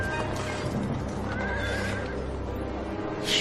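A horse whinnies loudly and close by in a medieval Viking setting, a drawn-out quavering neigh with hoof clops and shuffling around it.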